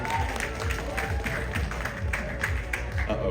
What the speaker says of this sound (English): Huge round of applause, please, for Jessica Cherry.